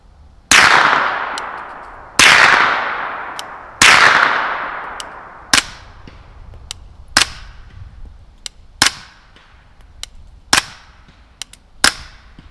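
Gunshots from a Bam Machine BM15 pistol-caliber carbine firing 115 grain Winchester rounds at a 100-yard range. Three loud, sharp reports with long ringing decay come first, then about eight quicker, lighter cracks spaced roughly a second apart.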